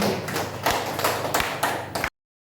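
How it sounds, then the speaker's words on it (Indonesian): Hands clap in a short burst of applause at an Indonesian school event, several sharp beats rising and falling for about two seconds before stopping abruptly, fairly quiet and close. "Tepuk tangan untuk kita semua dan sudah membantu."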